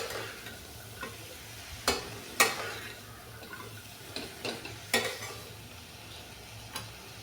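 Mixed vegetables, including brinjal, sauté in a spoonful of oil in a pan, giving a soft sizzle broken by scattered sharp clicks and scrapes of stirring, fairly quiet.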